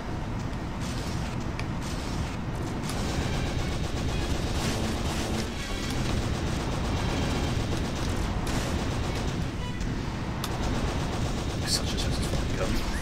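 Weapon fire in the space combat game Wing Commander Prophecy: a dense, continuous barrage of rapid shots and explosions layered over a loud engine-like roar throughout, with voices talking underneath.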